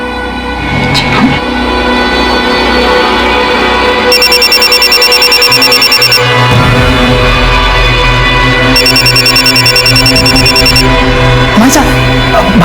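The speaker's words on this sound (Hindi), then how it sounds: "भाभी का फोन बज रहा है।" A mobile phone rings with a repeating electronic ringtone in two long bursts over a busy domestic scene, with voices and background music underneath.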